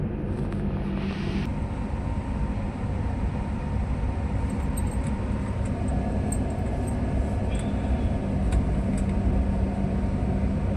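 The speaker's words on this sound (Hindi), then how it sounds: "और कोटे का रेलवे स्टेशन दिखाती हूँ आपको।" A train at Kota railway station in Rajasthan around 5:30 gives a steady, loud low rumble throughout, with faint higher clanks and hiss on top and no voices.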